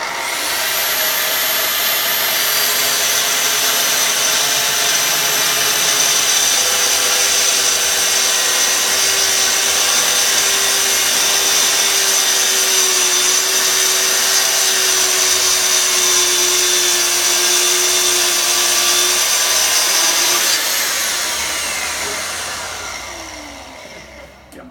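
Festool track saw running a long cut along its guide track in a garage, a loud steady motor whine with cutting noise lasting about twenty seconds before spinning down, no talking.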